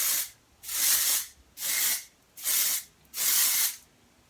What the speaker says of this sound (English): you spray directly into the roots, and then you can bring it out through the hair as well